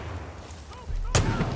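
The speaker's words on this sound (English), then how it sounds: "Oh shit, grenade." A grenade explodes in Far Cry 5 multiplayer as a single sudden, loud blast near the end, following a brief stretch of game ambience.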